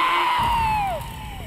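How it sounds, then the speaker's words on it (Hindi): Scream in a horror TV episode, a loud shrill human shriek that slides downward and fades, with a second falling cry behind it. "ये चीख कैसी है?"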